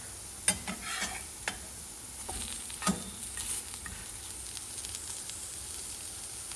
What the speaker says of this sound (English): you just form these little patties and you put it in the skillet